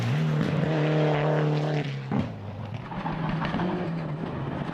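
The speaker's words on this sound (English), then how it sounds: "Counting down to the stage end now, and David Holder will be the first to cross the line" A rally car on a gravel stage of the 2016 NZRC Rally Gisborne drives toward the finish line, its engine note loud and rising through the gears, then dropping sharply as it lifts and brakes before settling into a lower, steadier drone.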